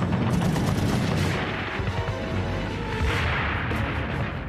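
Heavy gunfire erupts during the commando landing at Vaagso in archival war footage, a dense, loud fusillade of rapid shots and bursts continuing throughout with no pause.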